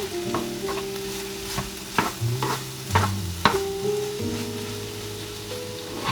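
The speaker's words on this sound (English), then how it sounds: "Mix it up all nicely." A spoon stirs a sweet potato, vegetable and ground meat mixture in a pan, scraping and knocking in a loose rhythm over a constant frying sizzle, close and fairly loud, with no voices.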